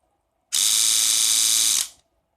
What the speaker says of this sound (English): Okay, the motor works, but I will increase the voltage to 6 volts.